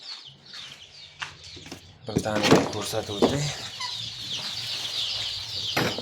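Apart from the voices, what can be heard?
chicks cheeping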